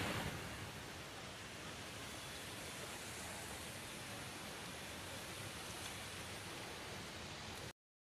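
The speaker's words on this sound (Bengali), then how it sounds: "বন্ধুরা শুধু ফিল করুন। এটা হলো হুড্রু ফলস।" Hundru Falls near Ranchi roars as a steady, dense wash of falling water, unbroken and fairly loud throughout before cutting off abruptly at the end.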